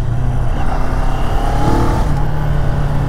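Engine of a 2023 CFMOTO 650 NK roadster on the move, a steady, fairly loud motorcycle drone with a slight rise in pitch midway, heard alone with wind-like rush throughout.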